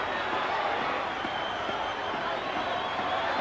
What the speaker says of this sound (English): It is certainly a very big crowd.